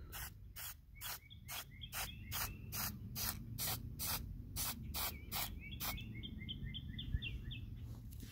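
Repeated short bursts of an aerosol sealer spraying onto wooden Titanic model decks outdoors, about a dozen hisses at a steady rhythm, close and loud, over wind rumble with birds chirping in the background.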